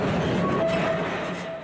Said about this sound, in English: Just riding this train hundreds of meters underground is scary in itself